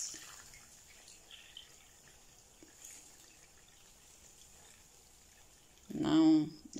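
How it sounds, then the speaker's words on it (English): Water is poured into a cooking pot of Fante kenkey: a quiet, steady background gives way to a short, loud splashing pour near the end. "So I'm adding water to it."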